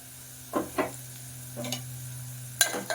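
Turmeric and curry leaves sizzle and are stirred in a pan of potato curry, with a steady low hum beneath, a few clinking stirring strokes and a sharper clatter near the end.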